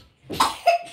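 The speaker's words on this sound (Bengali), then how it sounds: "খুব কাশি হয়েছে।" A young child of about 18 months coughs in a few short bursts, close to the microphone, with no talking over it.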